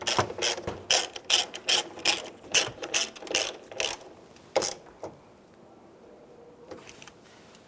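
A ratchet snugs down the door mirror nuts on a Chevy Trailblazer in repeated short bursts of clicking, close and crisp, then it tapers off to a few isolated clicks and handling noises.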